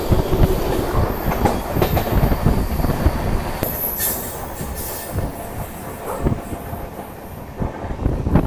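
The Hirakhand Express rolls across a bridge on its run from Bhubaneswar to Koraput, a loud, steady rumble of wheels and carriages with rhythmic clatter and a brief high squeal, heard close and continuous.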